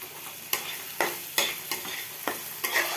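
Onions frying in a pan, a soft continuous sizzle broken by several distinct scraping strokes of a spatula stirring, roughly every half second, close up.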